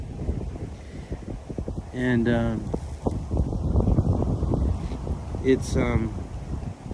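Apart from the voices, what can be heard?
strong wind blowing outdoors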